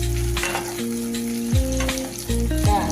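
A steady, loud sizzle of onion, tomato and green chilli frying in a pan, with occasional stirring scrapes and clinks, and no talking.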